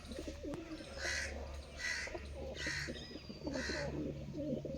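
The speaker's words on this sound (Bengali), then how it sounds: "জাগ পিলং কবুতরটা হচ্ছে দেশি কবুতর, ওইটা একটা বিদেশি কবুতর" Pigeons, both native and foreign breeds, give four evenly spaced soft calls over a low steady hum, with fainter chirps and rustling in between.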